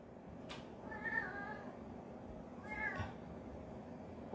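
A cat meows twice, a drawn-out call and then a shorter one a couple of seconds later, faint and fairly close over a low background hum.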